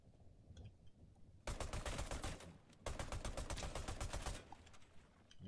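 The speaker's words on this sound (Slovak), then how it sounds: "Nevadí, strieľal som do zeme." Rapid bursts of automatic gunfire from the video game Fortnite, shot into the ground, come in two long, loud sustained volleys separated by a brief pause, with no talking over them.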